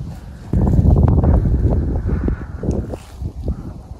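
Cold wind gusting outdoors in early January, buffeting roughly against the microphone in uneven low rumbles, with no talk.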